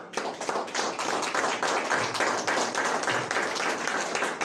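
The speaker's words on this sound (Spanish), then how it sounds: "¿Cuántos pueden darle un fuerte aplauso al Señor?" A congregation at an evening general church service claps loudly and steadily for the Lord, dense overlapping hand claps forming a sustained wave of applause with no voices.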